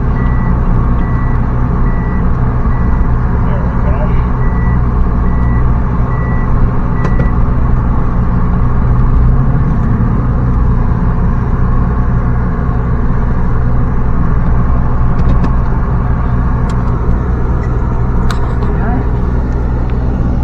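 A Mitsubishi Mirage engine idles and rolls slowly into a parking spot as reversing beeps sound, with a brief spoken remark near the start.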